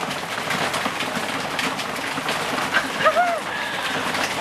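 Heavy rain falls loudly in a steady broadband hiss that fills the whole stretch, with a brief vocal exclamation rising over it near the end.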